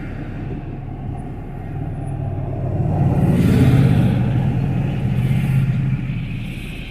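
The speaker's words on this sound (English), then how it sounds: "What is going on with this traffic, though?" Road traffic in Southern California rumbles past with a low, continuous roar that swells toward a louder pass in the middle and then eases off, heard outdoors without any voices.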